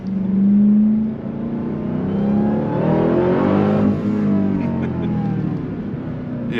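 A 2023 Dodge Durango Hellcat SUV accelerates hard out of a corner on cold tires, its engine roaring loudly as it climbs through the revs with a rising whine, heard from inside the cabin.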